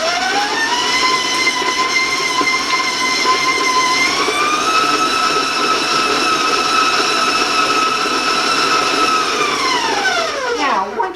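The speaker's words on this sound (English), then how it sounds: "I'm going to turn my mixer on, and I'm going to warn you about the sound because it can be a little loud" Electric stand mixer beating two sticks of butter, a loud steady motor whine with strong harmonics that shifts up in pitch partway through, then winds down at the end; no talking.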